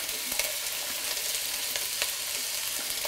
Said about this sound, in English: onions and our peppers, get them in the oil